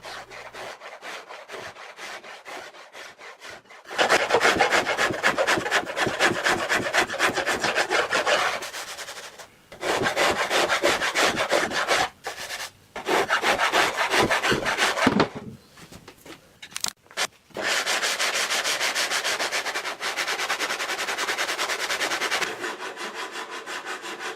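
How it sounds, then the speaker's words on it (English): A rasp shaping pine strips on a wooden pontoon, scraping in loud, steady back-and-forth strokes in long runs broken by brief pauses. "More shaping with the rasp where the pine strips were close to the board holding the bulkheads."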